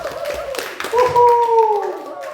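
Scattered clapping rises from a congregation at a Friday evening prayer service, a few brief claps mixed with voices and a sustained tonal sound, fairly close and moderate in level.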